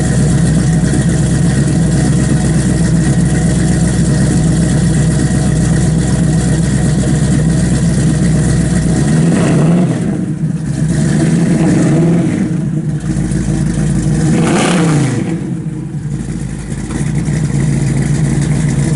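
A 1969 Chevrolet Camaro RS/SS resto-mod with a 3-inch exhaust rumbles at a deep idle, then revs up a few times in quick blips before settling back, loud and close.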